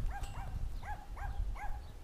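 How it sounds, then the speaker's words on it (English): A guard dog in a small rural town gives a string of short, evenly spaced barks or yips at a moderate distance over steady outdoor background noise. "And the guard dog."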